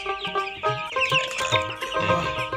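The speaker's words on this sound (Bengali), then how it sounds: "এটা পাকিস্তানি মুরগি।" Large Pakistani-breed chickens clucking and calling close by, several overlapping harsh, tonal calls in quick succession with no talk.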